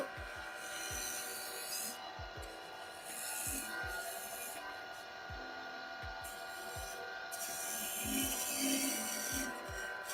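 A skew chisel cuts kiln-dried aged cherry on a wood lathe, giving a steady close scraping hiss with a low turning rumble and repeated soft knocks spaced about every half second, with no talk.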